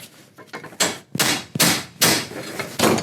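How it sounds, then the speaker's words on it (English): A hammer whacks a metal punch held over a slightly opened vise, five sharp, ringing metallic strikes spaced irregularly, close and loud, with no talking. "open your vise up just a little bit and kind of straddle it there and whack it a few times with your hammer"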